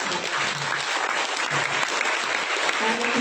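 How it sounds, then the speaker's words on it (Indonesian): Steady, dense applause from a graduation audience at a university medical faculty ceremony, loud and continuous throughout with no pauses. "Marilah kita tepuk tangan."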